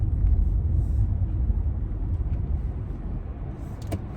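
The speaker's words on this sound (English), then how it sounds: "There's a lot of cars in here and they're speeding." Steady low road rumble of cars rushing past on a busy road while driving, a continuous broadband traffic roar with no voices.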